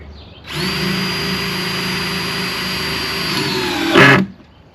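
A DeWalt cordless power tool runs on 2x4 lumber during a backyard chicken coop build, one steady close whine of about three and a half seconds that rises in pitch and loudness just before cutting off.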